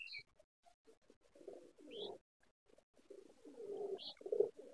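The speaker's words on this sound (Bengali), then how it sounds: "এই যে এখানেও কবুতর আছে দুইটা" Pigeons perched in a rural yard among mango trees give soft, low cooing calls in several short bursts, with a few faint higher chirps, fairly close and otherwise quiet.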